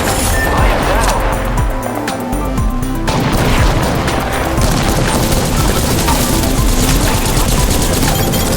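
Gunfire in a video game shooter, with loud, dense, rapid bursts of automatic fire and booming shots pouring out nonstop, close and intense.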